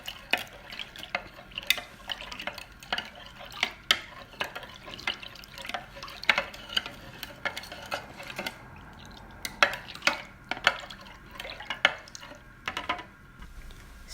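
Ingredients for an onion, rice and meat dish are mixed in a pan, giving a steady run of soft scraping and sharp utensil clicks against the metal, fairly close, with no talk.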